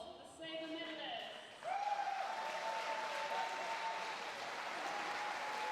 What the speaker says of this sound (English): A round of applause for the Saber medalists.